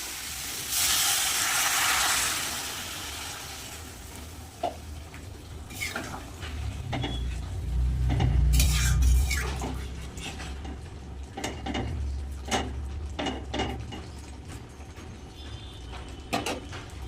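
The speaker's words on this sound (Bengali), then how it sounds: "মশলা ভালো করে কষিয়ে নিয়েছি এবার দিয়ে দেবো জল" Water hits a pan of sizzling fried spice paste with cauliflower and potato for aloo gobi dum, giving a loud hissing burst that settles into bubbling, with scattered clinks and scraping of a utensil afterward.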